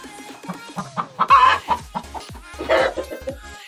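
Hens in a coop cluck repeatedly in quick, uneven bursts, loud and close, with a few sharper squawks rising among the steady clucking.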